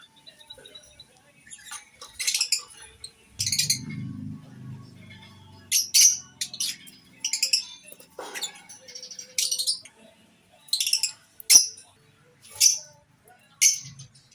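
Small pet birds, lovebirds with aqua and yellow-face colouring, chirp in a home aviary in short bursts of high, close tweets, separated by quiet gaps, with a low murmur of voice once.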